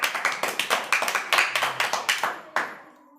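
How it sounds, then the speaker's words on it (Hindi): A small group of schoolchildren clapping in a classroom, quick rhythmic claps in an even beat for about two and a half seconds, close and lively, then stopping abruptly. "तो दिशा के लिए ताली बजनी चाहिए"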